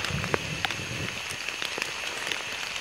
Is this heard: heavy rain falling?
yes